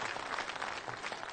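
Applause from a theatre audience at a Uyghur comedy stage show, a dense steady clatter of many hands filling the room continuously without pause.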